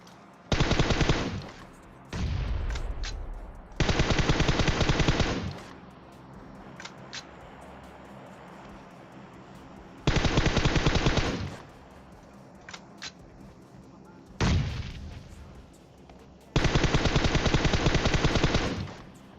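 Loud bursts of rapid automatic gunfire in PUBG Mobile come in repeated volleys separated by short pauses, with a few single shots between them.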